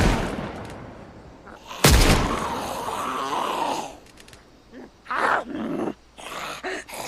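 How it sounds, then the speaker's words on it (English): Gunfire in Project Zomboid, a single sharp loud shot followed by a lingering rumble, then several shorter scuffling impacts and bursts. "Let's practice some shooting."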